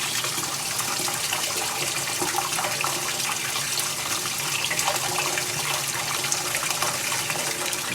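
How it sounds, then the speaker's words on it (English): Water pours and spills continuously into a tub during spring unwinterizing, a steady, close, hissing rush with no pauses and no voices. "You can also see that pretty cool water spill there."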